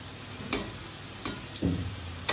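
Chicken gizzard fries in a pan with a steady, close sizzle, broken by a few sharp pops and a louder crackling burst near the end. No one speaks.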